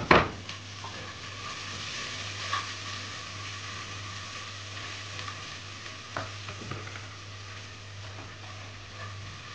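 Onion hits browned garlic in a pan for Filipino sopas, a steady sizzle with a sharp initial crackle and occasional utensil clinks and stirring scrapes.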